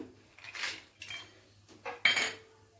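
Cashew nuts go into hot oil with whole garam masala spices while Basanti Pulao is cooked, giving a few short clatters and scrapes of a pan and utensil with quiet gaps between them and no talk.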